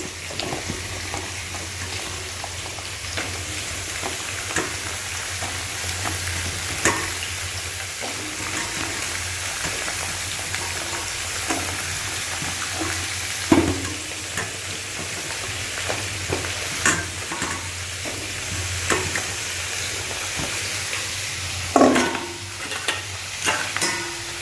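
Pumpkin and spices fry in a pan with a steady low sizzle, broken by occasional clinks and scrapes of stirring. The cooking noise runs continuously at close range and is not covered by any talk.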